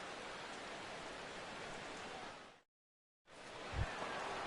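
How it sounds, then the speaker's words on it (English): Steady, soft hiss of rain falling over a baseball game in MLB The Show 16, briefly cut to silence before resuming, with a low thump near the end. "the rain continues to fall here"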